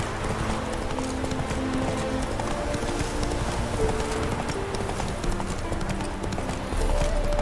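A horse gallops in a video game, its hooves clip-clopping in a fast, continuous rhythm over a dense, steady bed of game sound and music, loud and close throughout.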